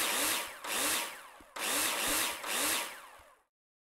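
In the video game Builder Simulator, a power drill drives screws in four sharp, whining bursts of rising pitch, each roughly a second long, close and loud, ending abruptly into silence.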